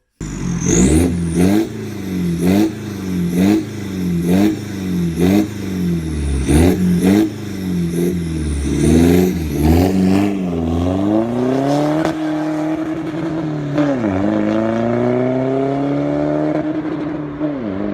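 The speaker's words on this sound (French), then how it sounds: "je vais vous incruster là, juste maintenant, des sons de cette voiture en libéré" Jaguar X-Type 3.0 V6 with a free-flowing exhaust, loud and close, blipped in a quick regular series of sharp revs, then held through longer sweeping climbs and drops in pitch, with no talking.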